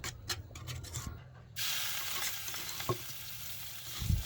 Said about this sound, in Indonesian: kita mau tumis bumbu semurnya ya